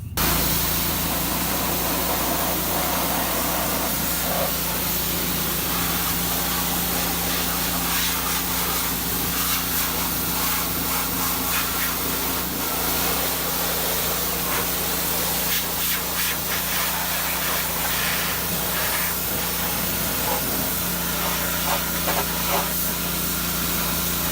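Dirty, greasy parts get sprayed down with a steady, continuous hiss of spray that runs unbroken throughout, with faint clatter now and then and no voices.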